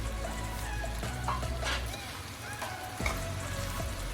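Chicken breast goes into a pan of vegetables that are already frying, and it becomes a loud, continuous sizzle with scraping and stirring clatter close by.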